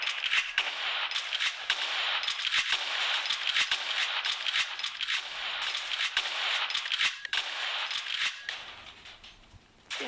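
Rapid bursts of video-game gunfire from War Simulator crackle continuously in dense, sharp volleys, loud and close, with brief gaps between strings of shots and no talking over them.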